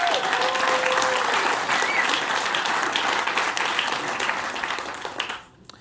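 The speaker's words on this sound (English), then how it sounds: "we all owe a big round of applause to Adeo" Loud, dense applause from an audience at a talk on startup investing and angel funding, sustained for about five seconds before tapering off at the end.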